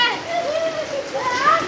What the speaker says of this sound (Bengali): বৃষ্টিতে সব মজা করছে